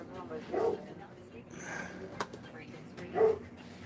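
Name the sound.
dog barking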